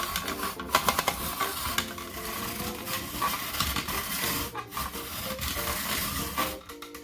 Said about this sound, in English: we've spiralized all 3 sweet potatoes